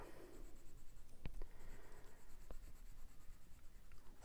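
A pencil colors on paper in short scratchy strokes, quiet and close, with a couple of sharper taps in between and no talking.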